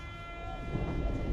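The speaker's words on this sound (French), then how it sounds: "on arrive gare du Nord, on a fait 6 minutes de RER depuis notre entrée au Luxembourg" An RER B commuter train in Paris rolls into Gare du Nord with a low, steady rumble under sustained high tonal whines that fade partway through as the rumble grows slightly heavier.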